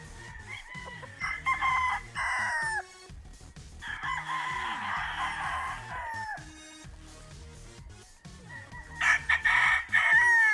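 Broodcock roosters crowing repeatedly nearby, several drawn-out cock-a-doodle-doo calls overlapping with clucks and other fowl sounds in a farm yard.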